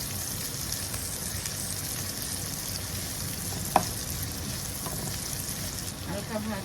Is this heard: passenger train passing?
no